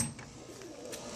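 Pigeons coo softly inside a kit box loft, a few low murmuring calls close by over a quiet background with light rustling.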